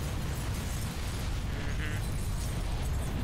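Explosions blasting a city in Halo Reach, a continuous loud rumbling roar of heavy blasts with low boom throughout and no clear pauses.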